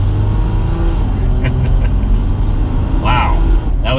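A 2021 Jeep Gladiator Rubicon diesel accelerates on a test drive, its low engine rumble steady and close from the cabin, swelling slightly as speed builds.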